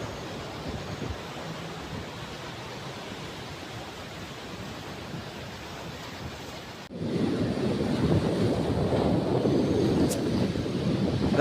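Sea waves rush onto Fort Kochi beach in a steady roar with wind buffeting the microphone, growing louder partway through.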